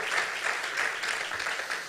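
Steady applause from a large church congregation, continuous clapping with no speech over it.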